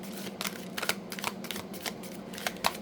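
Tarot cards being shuffled by hand give a series of crisp riffling snaps in quick irregular bursts, close and fairly quiet, with no talking.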